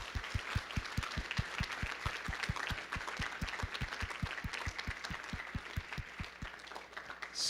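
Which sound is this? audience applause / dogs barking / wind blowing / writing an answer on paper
audience applause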